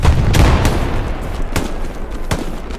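A grenade explosion in the World War II shooter game Hell Let Loose: a loud, close boom at the start, followed by a few sharp distant gunshot cracks.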